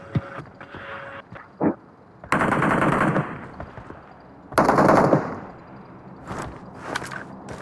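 Bursts of automatic gunfire in a battle royale video game, with rapid machine-gun volleys between quieter stretches of footsteps and movement, two long loud bursts and several shorter clusters of shots.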